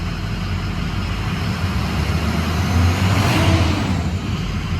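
A Ford 6.0 Powerstroke diesel idles cold in a service shop after a rebuild, giving a steady, close, low rumble that swells slightly partway through, with no talking.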